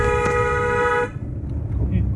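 A car horn blares in one loud sustained honk for about a second, then cuts off, leaving road noise and a faint voice on a hill-country road trip.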